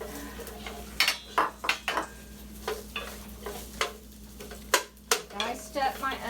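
A diced white onion sautéed in a hot pan for lemon orzo soup, heard as a soft sizzle under a string of close utensil scrapes, pan knocks and stirring clatters. Someone speaks briefly.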